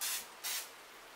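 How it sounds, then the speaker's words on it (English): Butter spray hisses from a can onto a non-stick waffle iron in two short bursts, the first longer than the second, close and fairly soft. "with some butter spray, you're gonna spray your waffle iron"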